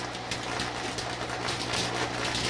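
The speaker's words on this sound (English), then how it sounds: "the steel wool ignites super easily and makes a nice shower of sparks" Steel wool set alight by an electrode throws a shower of sparks, producing faint, irregular crackling and popping bursts over a low background hum.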